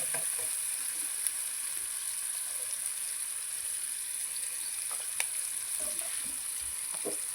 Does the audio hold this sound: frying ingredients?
yes